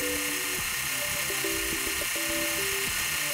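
A small drill bit runs at high speed as it bores a 2.3 mm hole in blued pivot steel, giving a steady whine with shifting tones over a constant hiss.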